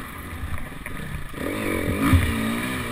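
Dirt bike engine racing on an off-road track at a senior off-road GP, a steady motor drone that swells and revs in the second half, close and moderately loud with clattering over it.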